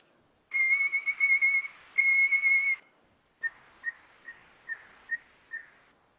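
A person whistles an imitation of a red bird's song outdoors in the woods: two long warbling trills, then a pause and a series of six short, bright, evenly spaced whistled notes, close and clear with no other sound.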